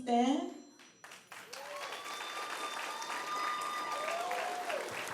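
An audience at an elementary school Veterans Day parade applauds the veterans. A voice is heard briefly, then sustained clapping builds and continues at a moderate distance, with some whistle-like tones above it.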